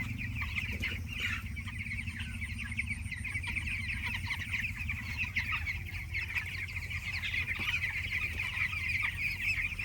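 A flock of 14-day-old broiler chickens on a poultry farm clucks and cheeps continuously while eating from feeders, a dense, steady chorus heard close over a low mechanical hum.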